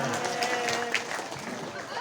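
Crowd applause for local officials at an evening Islamic sermon gathering in a village in Subang, a dense burst of clapping filling the short moment with some voices mixed in.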